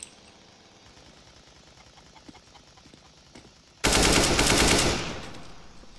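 A Negev machine gun fires in Counter-Strike: Global Offensive, with faint rapid shots first, then a loud, dense sustained burst of about a second that tails off.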